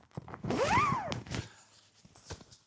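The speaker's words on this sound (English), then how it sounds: "pull up the zipper," Zipper on a wildlife photography hide pulled up in one quick rising zip, close by, followed by soft rustling and a few light footsteps or fabric movements.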